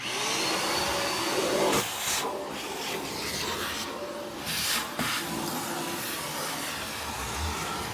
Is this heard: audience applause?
no